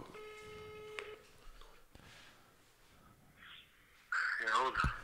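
A telephone tone sounds briefly at the start as a call is placed, followed by quiet, faint rustles and then a burst of squeaky, warbling electronic noise near the end.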